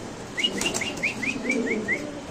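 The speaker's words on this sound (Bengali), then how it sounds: "তো দর্শক এখানে আছে লাহোরি কবুতর একদম অরিজিনাল টপ ব্লাডের লাহরি কবুতর" Lahori pigeons at a pigeon market, heard as a series of short, bright, evenly spaced chirping calls over a soft background murmur, with no talking.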